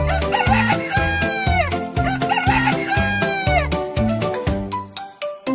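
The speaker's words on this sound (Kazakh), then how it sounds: "Дұрыс, бұл әтеш." A rooster crows loudly and close by, a few strained, rising calls following one after another over about five seconds.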